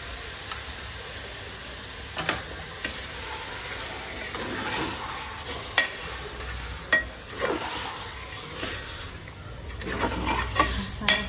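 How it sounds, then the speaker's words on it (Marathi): A ground ginger, garlic and coriander paste sizzles in a hot pan for a Kala masala chicken dish. A steady loud frying hiss runs throughout, with spoon stirs and scrapes scattered over it. "यातच आपण जे बारीक केलेलं आलं लसूण कोथिंबीर पेस्ट आहे घालून घेऊया।"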